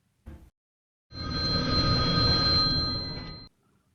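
A telephone bell rings in one long, loud continuous burst, preceded by a brief separate thump, with no voices.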